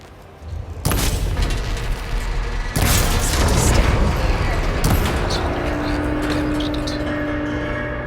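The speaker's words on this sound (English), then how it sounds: "Maybe I can shoot the coupling on the arm." Gunshot striking a machine's arm coupling in Horizon Forbidden West, followed by heavy booming explosions and a long rumbling, crashing tail with metallic debris, loud and close.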